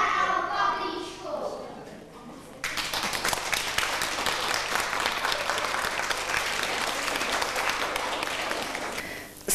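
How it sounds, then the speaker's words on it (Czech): Children in a performance for seniors at a care home get applause from the audience: a quiet voice opens the clip, then loud, steady clapping begins abruptly and continues strongly to the end. "děti byly odměněny potleskem"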